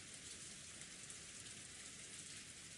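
Rain falling as a sound effect in an anime fan dub, a soft, even hiss of steady rainfall held faint and unbroken throughout, with no voices.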